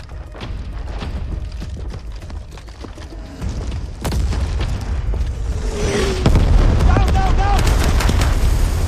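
Indian army exercise with loud, continuous gunfire and booming explosions, heavy overlapping bursts that build in intensity, with shouted commands in the mix.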